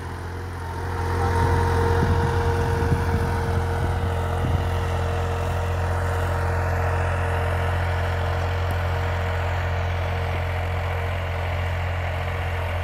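A New Holland 3600-2 All Rounder Plus diesel tractor engine runs at 1800 RPM, giving a loud, steady, low drone with a constant pitch and no pauses. It holds evenly for the whole stretch with no voices.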